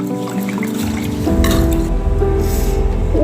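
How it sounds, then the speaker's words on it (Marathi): Rice being rinsed in water for an appe batter, with close sloshing, dripping and trickling as the grains are swirled and the water poured, loud and continuous with no talk. "तांदूळ मी 3-4 वेळा धुवून घेत आहे."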